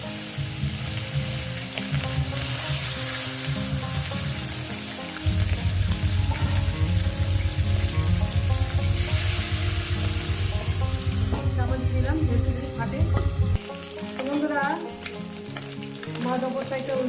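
Steady, loud sizzling of parshe fish frying in hot salted oil, crackling continuously with occasional stirring and clinks, no talking.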